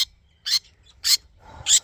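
Budgies in an aviary give four short, bright chirps spaced about half a second apart, each crisp and fairly close, over near silence.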